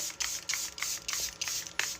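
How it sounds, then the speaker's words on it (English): A pump bottle of Charlotte Tilbury setting spray mists onto a face in about seven quick hissing bursts, each short and close, with an even rhythm and no talking. "Now I'm gonna set my face with the Charlotte Tilbury setting spray."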